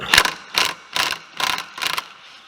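15 mm socket wrench ratcheting on a clutch bolt of a Ski-Doo 850 snowmobile, five evenly spaced bursts of clicking, close and clear with no talk.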